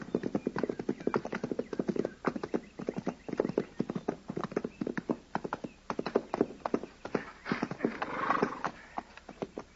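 Horses' hooves clip-clop in a quick, steady rhythm as riders set off at a frontier fort, close and continuous for the whole stretch, with a brief whinny-like sound near the end.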